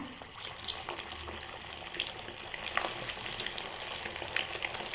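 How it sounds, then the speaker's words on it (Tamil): Egg vadai cutlets dropped one by one into hot oil for deep frying: a dense, bubbling crackle that fills the whole stretch at moderate loudness, with small pops and spatters scattered through it and no voice. "நமக்கு எண்ணெய் நல்லா காஞ்சிருச்சுங்க இப்போ நம்ம ஒவ்வொரு கட்லெட்டாக போட்டு எடுத்துக்கலாம்"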